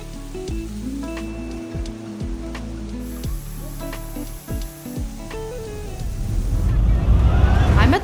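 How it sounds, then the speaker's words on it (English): Water rushing at the base of a waterfall in green El Salvador countryside, a broad hiss that swells loud and close in the final seconds after a voice-like tonal passage. "I'm at the base of this waterfall."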